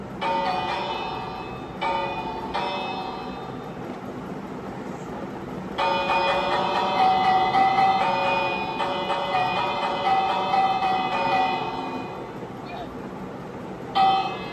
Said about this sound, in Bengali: এখানে চলো ভাই ভিলেজ আমার, তাই আমি বেল বাজাবো।